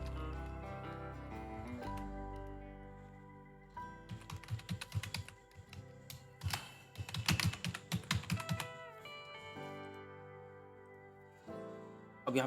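An email address typed on a computer keyboard in short bursts of crisp, close keystrokes, separated by quiet gaps and set against a faint tonal background.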